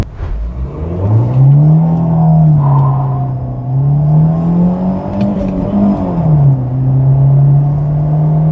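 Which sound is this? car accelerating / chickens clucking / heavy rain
car accelerating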